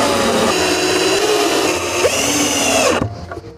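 A power drill drives screws into a wooden insect hotel, a loud steady whine held close for about three seconds, then cutting off abruptly into a fading rattle.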